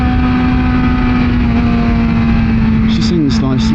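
A BMW M1000XR motorcycle engine on a test ride holds a loud, steady high drone that climbs in pitch toward the end, with wind noise throughout and a rider talking briefly over it.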